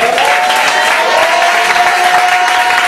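A church congregation applauding and acclaiming the Lord during a worship service, steady dense clapping with crowd noise and a sustained tone running throughout, loud and continuous.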